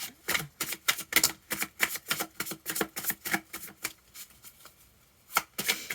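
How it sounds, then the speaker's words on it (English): Rapid riffling and slapping of a tarot deck being shuffled, a quick irregular run of crisp bursts with a brief pause near the end, close and fairly loud. "One more shuffle."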